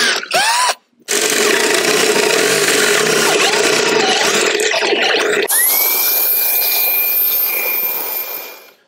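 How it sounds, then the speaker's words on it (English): A power drill whines loudly as it bores a 20 mm hole for a Land Rover Defender seat, pausing briefly near the start and then running steadily until it spins down. "you can then drill through to 20 mil"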